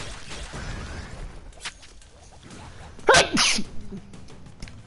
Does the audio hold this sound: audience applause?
no